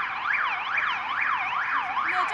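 Wailing police van siren sweeping up and down in steady cycles about every half second, loud and close as the vehicle passes, with no talk over it.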